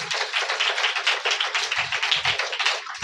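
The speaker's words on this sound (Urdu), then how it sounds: "ہالیلویا، تالیاں بجاؤ" A church congregation at a sermon clapping hands together in a steady, continuous rhythm, loud and close, with no talk over it.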